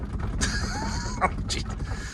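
A 2001 Roadtrek 190 camper van seat creaks and squeaks a few times, short groaning bursts with mechanical clicks, close up over a low rumble.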